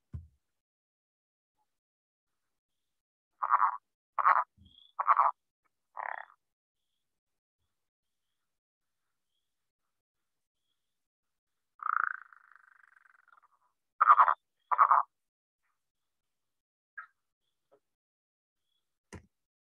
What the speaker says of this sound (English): Late April to mid-May is when the males begin calling for their mate, and this is what they sound like.